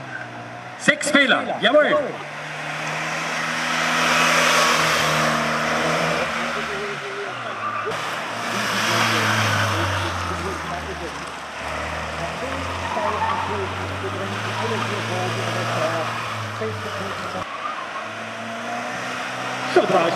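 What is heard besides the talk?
car driving up to the finish in a slalom race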